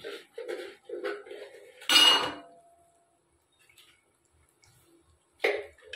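A metal lid lifts off a pot of chicken biryani with a loud clatter near two seconds, preceded by a few lighter clinks of cookware and followed by quiet, then another sharp clink near the end.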